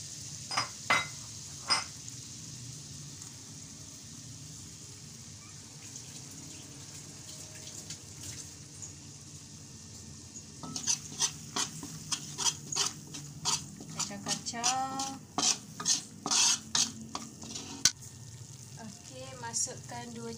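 Butter and wheat flour cook in a pan for a grilled beef dish, first a low steady sizzle with a few scrapes, then busier stirring with rapid clattering scrapes of a utensil against the pan over the frying hiss.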